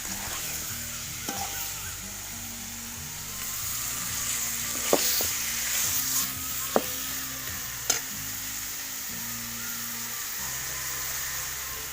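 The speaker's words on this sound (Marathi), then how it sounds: "आता आधी इथं फोडणी देते" A continuous hiss of spices tempering in hot oil for mutton cooked on a wood-fired stove, with a few sharp pops and clicks scattered through, close by and steady.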